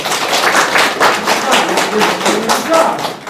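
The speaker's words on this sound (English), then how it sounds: "Applause!" Steady, dense clapping from a group in a university English lecture setting, a brisk run of overlapping claps lasting about three seconds at an even, fairly loud level.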